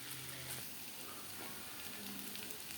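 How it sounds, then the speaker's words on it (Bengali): Taro stems and leaves stirred in a frying pan, giving a steady, faint sizzling hiss with light scraping underneath, close and continuous, with no speech. "তো এইভাবে আমি নেড়ে নেবো কয়েকবার।"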